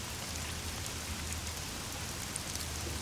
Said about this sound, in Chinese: 听着雨声睡挺舒服的。